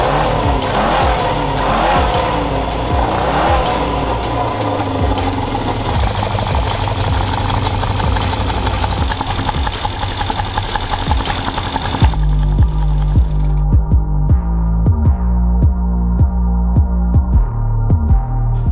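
An original-engine Renault 4L runs loudly and close, with rough, busy engine noise that shifts partway through into a steadier, pulsing idle.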